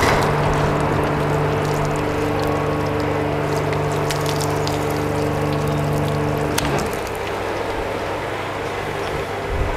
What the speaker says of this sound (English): pull the tip of the power washer off and then use the weight of the water to dry the car